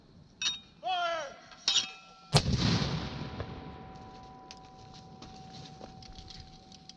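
A mortar gun fires during U.S. Army mortar training with the 2d Cavalry Regiment: one loud, close blast with a long rumbling decay, preceded by a few brief shouts and clanks.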